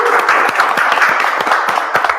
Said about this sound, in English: Can we give the round of applause for our panel?